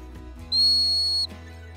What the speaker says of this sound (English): He uses a whistle to make his dog stop.